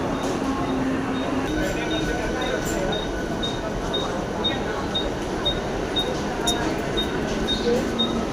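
Mumbai AC local train running, a steady broadband rumble and hiss with regular faint high ticks, continuous throughout at close range, with faint voices mixed in.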